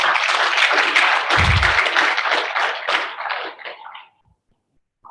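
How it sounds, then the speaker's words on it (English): An audience at an International Migrant Day celebration claps in a dense burst of applause that thins and fades out over a few seconds, ending in silence. "Please, another round of applause."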